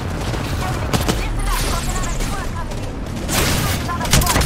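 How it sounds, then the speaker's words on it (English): Continuous video game gunfire crackles and booms densely throughout, mixed with shouting players talking over the shots. "No, stop shooting at me!"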